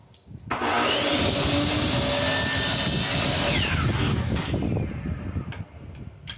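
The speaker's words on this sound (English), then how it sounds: "Then we started cutting all the pieces to length. Having the miter saw definitely made it much easier." Miter saw cutting wood pieces to length for a van build: the motor whines up loudly, holds a steady roaring cut, then spins down near the end.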